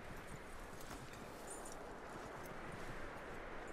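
Horse hooves clop steadily across the ground in Red Dead Redemption 2, a continuous, moderately loud rhythm that blends with other in-game ambience and carries no speech.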